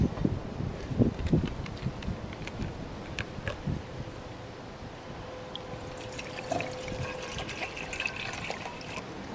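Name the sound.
water being poured into a canteen cup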